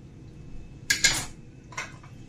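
Cut butter going into a pan for a sweet corn snack, heard as a few quick, close metallic clinks of utensil on pan in a quiet kitchen.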